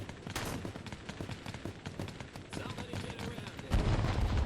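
Twin pistols fire in the VR shooter Plastic Battlegrounds, a fast string of sharp, repeated shots at moderate level with a heavier burst near the end.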